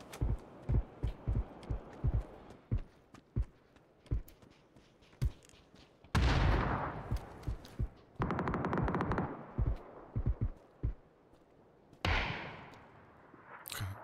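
Gunfire in the battle royale game PUBG: a quick run of sharp single shots, then loud sustained bursts that crackle and fade, followed by more scattered cracks and another heavy burst near the end.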